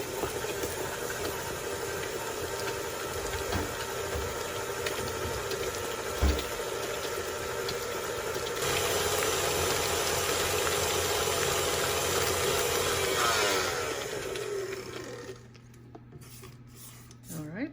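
An electric mixer churns cranberry oatmeal cookie dough with eggs and a splash of vanilla, a steady mechanical whir that rises in intensity partway through and then cuts off near the end.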